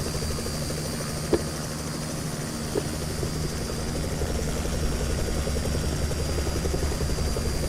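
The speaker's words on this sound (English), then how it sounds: "Helicopter skills are going right out the window today." Helicopter in a flight simulator game hovering near an airport terminal, giving a continuous, unchanging mechanical drone with a couple of faint clicks early on, heard alone without any voices.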